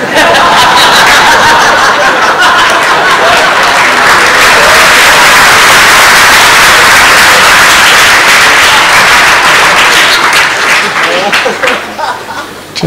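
Loud, sustained applause from a large audience at an ISKCON Sunday Feast talk, dense clapping mixed with laughter and chuckles across the whole stretch, thinning out near the end.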